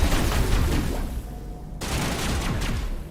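Shotgun blasts in the video game Mass Effect Legendary, loud game gunfire rumbling through a busy battle, with one sharp cut partway through and continued dense combat noise afterward.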